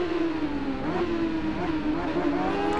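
A supersport motorcycle engine revs in the World Supersport race of the Ride racing video game, a loud, continuous, high-pitched drone that rises and falls close up, with no talking.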